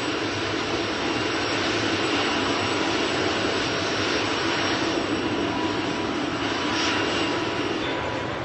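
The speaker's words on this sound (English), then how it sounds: "My engines are revving faster and faster and faster!" Helicopter engines wind up before the first takeoff of the day, a loud, continuous turbine roar that rises and holds steady with no voices.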